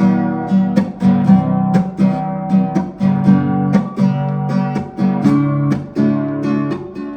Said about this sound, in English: our standard progression is going to sound like this with the open position chords